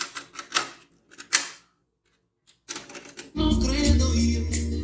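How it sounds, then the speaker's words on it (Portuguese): A Pioneer CT-W505R dual auto-reverse cassette deck is loaded and started: several sharp plastic clicks and clunks of the mechanism, a short pause, more clunks, then a steady, loud whirring hum as playback begins. "Então você coloca uma fita para tocar."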